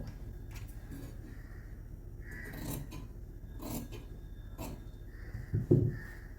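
Scissors cut blouse fabric along a marked line, producing several soft, close snips spaced a second or so apart over a quiet background.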